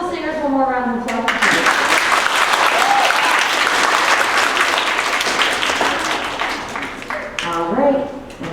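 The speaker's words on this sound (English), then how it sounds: "Could you all give my wonderful singers one more round of applause?" Audience applause for elementary school singers at a winter concert in a school hall, a loud, dense burst of clapping lasting several seconds. Brief singing or voices are heard before and after it.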